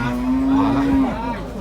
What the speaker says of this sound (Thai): ตลาดวัวนะครับ